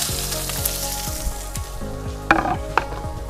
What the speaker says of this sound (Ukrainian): Ай, зашкварчала цибулька.